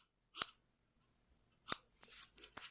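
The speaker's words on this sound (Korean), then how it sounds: "이렇게 잘라줍니다." Crisp scissors snips trimming the yarn ends on crocheted retro-style socks: two isolated cuts followed by a quick burst of several snips, close and quiet with no talking.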